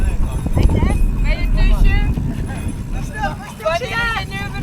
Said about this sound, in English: It's a drinking bus.